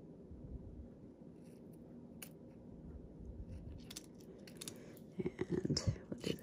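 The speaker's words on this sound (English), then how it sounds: "I have my other really sharp scissors here. I'll just use these to cut this." Sharp scissors snip through ribbon trim up close during a paper-crafting embossing project, a quiet background giving way to a few crisp cuts and rustles near the end.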